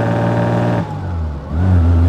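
Engine of a 1936 Wanderer W25K open sports car revving while driving, a loud, close, steady low drone with a brief dip before rising again.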